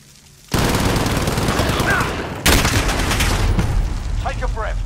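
Video game gunfight with dense, continuous automatic gunfire, loud and close, starting abruptly and restarting after a brief dip, while voices call out over the shooting.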